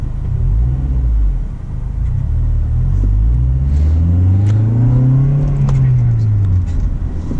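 A 2004 Honda Civic Si engine pulls through the revs while driving, a loud in-cabin drone that rises in pitch, dips and climbs again, with a person talking over it.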